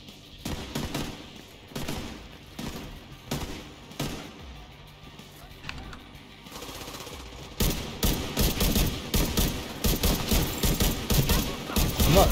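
Gunfire in the video game Tom Clancy's The Division 2, with rapid bursts at first, then a denser and louder stretch of sustained automatic fire later on.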